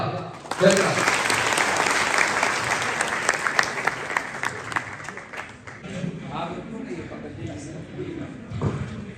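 Students at a school event clap loudly together, dense sustained applause that fades into scattered claps, with some voices audible toward the end.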